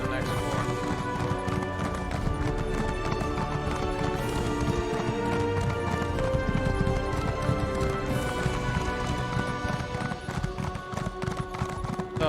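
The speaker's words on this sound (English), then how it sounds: "They need to change the way horses ride in this game." Steady clip-clop of a horse's hooves while riding in a video game, continuous and rhythmic over a busy backdrop of game music and ambience throughout.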